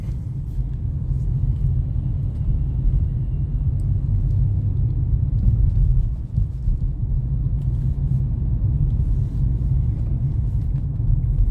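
Steady low rumble of city street traffic in Dnipro, Ukraine, on a sunny day, cars passing continuously at a moderate distance, with no voices and no distinct horns.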